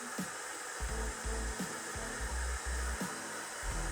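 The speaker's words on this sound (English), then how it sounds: "how you want to hold the blow dryer" A blow dryer fitted with a DevaFuser diffuser attachment, drying natural curly hair. It runs as a constant steady whoosh throughout, with soft rubbing thumps as the diffuser moves against the hair.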